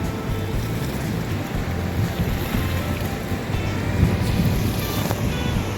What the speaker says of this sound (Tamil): மக்களே இங்கே பாருங்க ஆறு பெருக்கெடுத்து ஓடுது